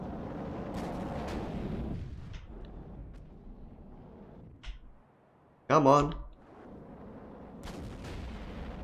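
Cannons fire in the naval combat game From the Depths, with distant rumbling booms and one sharp, loud blast midway, under a man's brief, quiet speech.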